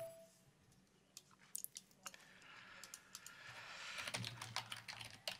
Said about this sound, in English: Oh, look at all this typing going on.